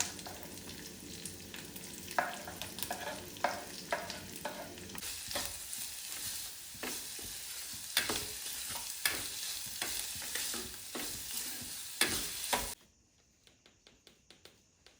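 Chopped garlic, green chillies and onion sizzle and fry in a pan, with steady crackling and repeated scraping stirs close up, the sizzle cutting off abruptly near the end.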